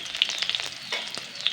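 Onions and green chilies sizzle and crackle in a hot pan close up, with bright spitting pops and soft stirring scrapes, and no one speaking.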